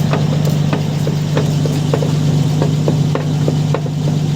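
A Nissan Patrol running with a rear left axle fault gives off a steady low engine drone, and a light rattling knock repeats at a fairly regular pace over it throughout, close and continuous.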